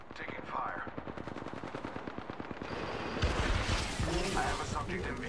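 Rapid automatic gunfire in a video game match, a steady rattling stream of shots that swells into heavier, louder bursts partway through, with a voice speaking over it.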